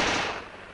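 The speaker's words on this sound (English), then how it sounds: "A Tommy gun." Burst of automatic fire from a Tommy gun, a Thompson submachine gun, in a 1940s wartime combat setting: a loud, dense rattle of rapid shots that fades slightly over under a second, with no voices.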